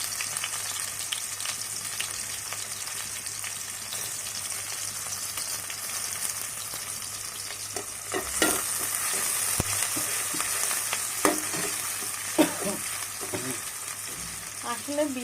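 Chopped onion and green chilies fry in hot oil in a home pan, a steady sizzle under occasional scraping stir strokes, with a few sharper clatters and pops near the end.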